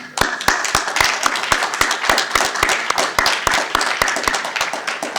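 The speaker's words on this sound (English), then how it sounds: "I want every single man in this room to clap" A roomful of men at an International Women's Day gathering clap together, a loud, close, sharp burst of fairly regular claps that keeps going for about five seconds.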